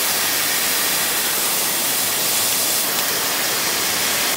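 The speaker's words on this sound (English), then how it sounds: "So we let that first side of that ball sear really good" Smash burger patties sear on a flat griddle at an outdoor resort campsite, giving a loud, steady, broadband hiss that runs unbroken for the whole stretch, with no voices.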